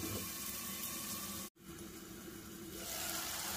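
Chopped tomatoes simmer covered in a pan over a low flame, giving a steady soft sizzle and bubbling hiss that cuts out briefly in the middle, then resumes and swells slightly toward the end. No one speaks.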